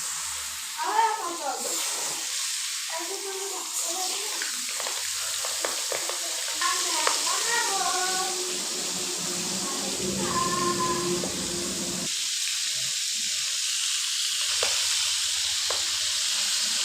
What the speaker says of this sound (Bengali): মাছটা কিন্তু তেলের মধ্যে দেওয়ার সাথে সাথে, মানে একটু পরেই মাছ পোটা শুরু করে দিয়েছি, আর তেলগুলো ছিটকে ছিটকে আমার শরীরেই চলে আসে